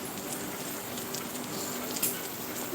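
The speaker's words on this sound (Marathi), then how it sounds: "किती पाऊस चालू आहे बघा ना" Steady rain falling outdoors, a dense even hiss of drops on surfaces, moderately loud and continuous throughout with no talk.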